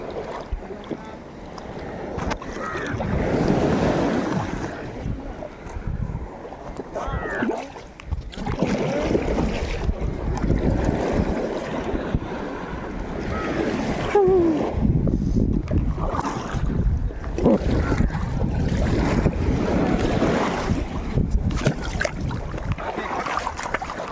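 Sea waves wash steadily around a small thermocol boat out at sea, a continuous close rush and slosh of water mixed with gusty wind buffeting the microphone.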